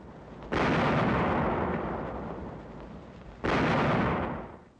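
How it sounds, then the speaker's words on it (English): Naval guns aboard Coast Guard cutters fire on a German trawler in archival wartime footage: two loud, heavy blasts about three seconds apart, each a broad booming roar that decays slowly. "Guns opened fire on the German trawler."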